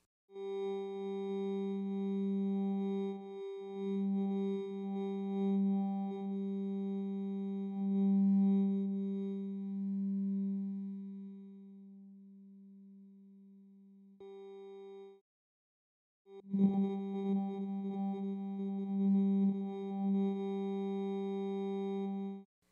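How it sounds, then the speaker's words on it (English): A steady synthesized tone with stacked harmonics drones on, shifting subtly as a resynthesized sound is swept through on the Dawesome MYTH synthesizer, breaks off briefly near the end, then returns with a gritty, textured attack. "we can use this control to move through the resynthesized sound as we play it"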